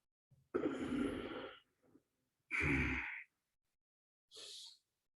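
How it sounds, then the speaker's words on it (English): Deep yogic exhalations during a pranayama session, three separate breaths, the first long and full, the second shorter, the third a brief airy puff, close and loud with silence between. "One more time, deep breathe in, breathe out, hold your breath and move."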